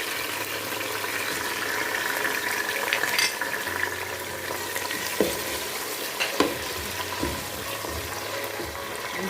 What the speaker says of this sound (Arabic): نحركوه نخليوه زاده يتقلى شويه.